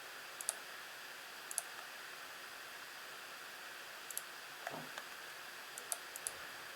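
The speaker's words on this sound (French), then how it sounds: "Donc je clique sur mon image, créer un contour, de là à là, et ainsi de suite." Computer mouse clicking while working in AutoCAD: faint, crisp single and double clicks spaced irregularly over a steady low background hiss, close and quiet.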